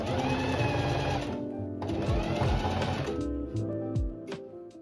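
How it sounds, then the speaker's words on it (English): A sewing machine runs a straight stitch around the edge of a fabric bag, its rapid mechanical whirring loud and close for a few seconds, then slowing and stopping. "Now it's time to sew. So just sew a straight stitch all around the bag, approximately 2 centimeters from the edge."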